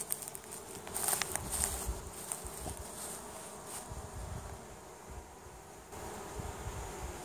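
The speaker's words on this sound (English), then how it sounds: "Had a few bees." Honey bees buzz steadily around an open hive while it is being split into two, a soft continuous droning hum with faint crackles and handling noise, no talk.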